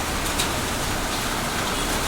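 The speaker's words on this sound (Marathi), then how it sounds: "जोरदार असा पाऊस चालू झालेला आहे" Heavy unseasonal rain pours down in Chhatrapati Sambhajinagar, a steady broadband hiss that stays even and loud throughout with no voices.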